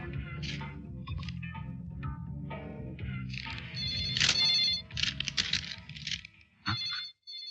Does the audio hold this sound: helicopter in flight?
no